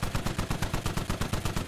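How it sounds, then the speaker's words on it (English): A machine gun in the Squad video game fires a rapid, evenly spaced burst of about a dozen close, punchy shots in quick rhythm, with no talking. "Accurate fire actually being returned."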